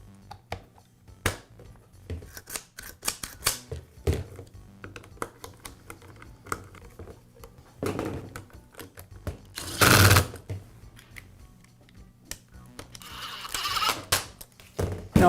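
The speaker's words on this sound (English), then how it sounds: "Now I'll reinstall the gear housing cover." A gear housing cover is reinstalled on a Milwaukee Sawzall during an extension spring repair, with close, dry clicks, taps and plastic-on-metal knocks scattered irregularly and one brief louder scrape midway.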